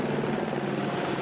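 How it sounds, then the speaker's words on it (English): A firefighting helicopter flies over Sutherland wildfires, giving a steady, loud, dense rotor and engine roar with no break for its short duration. "helicopters have also been brought in some areas"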